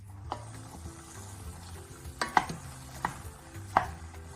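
Stewed plums simmer gently in a pot while a spoon stirs through them, giving a soft bubbling hum broken by a few sharp knocks and scrapes against the pot, quiet and close.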